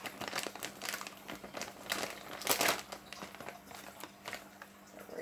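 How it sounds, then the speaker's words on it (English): A plastic bag of desiccated coconut crinkles and rustles while being opened and handled in a home kitchen, a steady run of close, busy crackles for several seconds with one louder crumple midway. "New bag of coconut."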